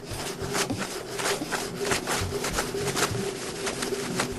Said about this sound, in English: And I just take the fire saw and start to move it along it.